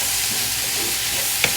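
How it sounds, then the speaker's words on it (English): Fried rice stirred in a frying pan, a steady close hiss of sizzling with faint scraping and a small clink near the end, no talking. "Going to give that a quick little stir."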